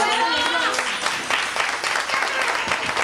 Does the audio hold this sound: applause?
yes